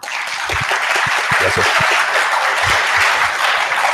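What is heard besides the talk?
audience applause welcoming a speaker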